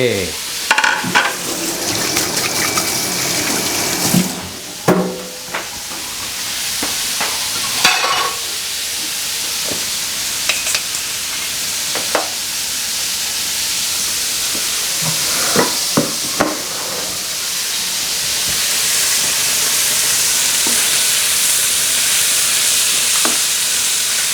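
Shrimp deep-frying in hot oil for garlic fried shrimp, a steady bright crackling sizzle with scattered louder pops and spatters, swelling slightly toward the end, close and alone without voices.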